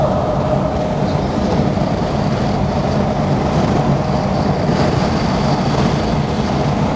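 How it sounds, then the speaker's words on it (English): Wind buffets through the cabin of a car moving at 70 mph with its windows rolled down, a loud, continuous rushing and flapping roar with no break throughout. "it's very buffety, and there's a lot of wind flapping around inside here"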